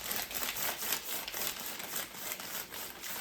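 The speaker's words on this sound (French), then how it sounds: "Des fois, ça peut être le papier, tu fais ça." Paper being crumpled and crinkled close up, a rapid, continuous series of crisp rustles and crackles with no talking.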